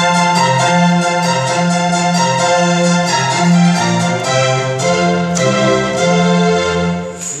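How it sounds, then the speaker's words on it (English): Sustained synthesized orchestral patch blending strings and harpsichord, modeled on East-West Symphonic Orchestra, played as a continuous loud chordal passage with a steady low bass line and no talking. "this orchestra is based on East-West Symphonic Orchestra, so it's a combination of strings and harpsichord"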